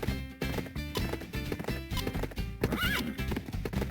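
Horse neighing and clip-clopping hooves in the video game Bibi & Tina: Jump & Ride, a loud whinny over a steady close rhythm of hoofbeats with game sounds, no speech.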